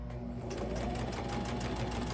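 A sewing machine stitches through the pages of a junk journal with a steady, continuous mechanical whir and fast needle clatter, close and even throughout.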